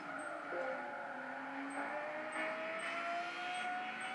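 A Lexus LFA engine at wide open throttle while racing a GTR, a faint, steady tone climbing smoothly in pitch as it accelerates, heard from a distance with no talking.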